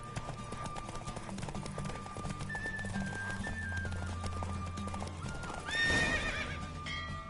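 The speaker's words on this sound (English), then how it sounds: "Don't spare the horse!" Hooves clip-clop rapidly in a steady gallop as a horse whinnies, with a loud neigh rising near the end over a constant backdrop of game music, from a horse race in The Witcher 3.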